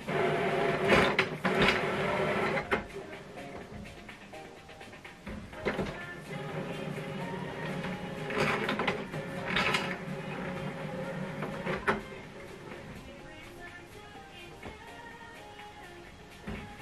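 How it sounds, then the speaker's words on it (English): An HP OfficeJet Pro 7720 inkjet printer's mechanism whirs and grinds through its calibration cycle, motor runs rising and falling with clicks and carriage movements, close by, no one speaking. "is calibrating the printer."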